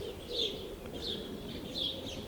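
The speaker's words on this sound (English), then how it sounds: "Look at all the birds in the background." Birdsong in a garden beside a wood: a few high chirps and calls repeat every second or so over a soft, steady outdoor background, fairly faint and with no talking.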